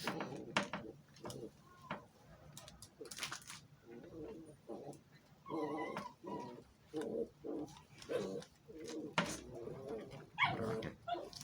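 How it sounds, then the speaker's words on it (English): Two dogs playing indoors make a lively racket of yelps, barks and whining bursts that keep coming in an irregular rhythm, close and moderately loud, with someone talking in between. "dog's making a right little racket there"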